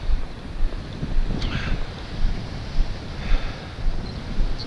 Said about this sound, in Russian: Ого, сегодня и волны такие намного больше.